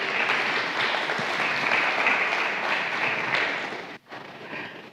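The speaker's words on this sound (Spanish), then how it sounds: "Otro aplauso, ¿verdad?, para este equipo técnico" A studio audience applauds the technical team in a steady, dense wash of clapping that holds for several seconds, dips briefly near the end, then resumes more softly.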